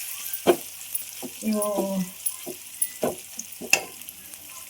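Onions frying in oil in a pan, a light sizzle beneath someone talking, with several sharp clinks and knocks of a utensil against the pan scattered through.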